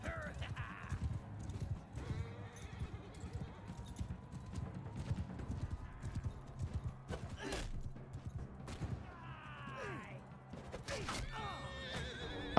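Horse hooves clip-clopping at a gallop with occasional neighs and whinnies during a battle in the video game Mount & Blade II: Bannerlord, steady and close amid clashing game noise.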